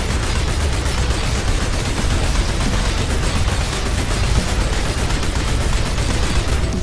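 Sustained loud gunfire from the sci-fi shooter PlanetSide 2 rattles on without pause, dense overlapping bursts of automatic weapons filling the whole stretch.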